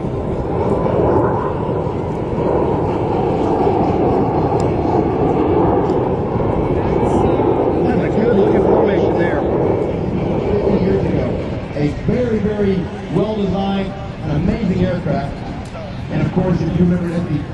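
An F-18G Growler flies with two Super Hornet wingmen at a naval aviation parade of flight, a loud, sustained jet roar rising and falling overhead while a commentator talks over it.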